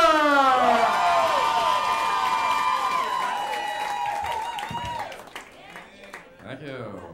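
A comedy club audience cheers and applauds for a comedian, a loud sustained wash of clapping and whoops that fades out as the performer starts speaking.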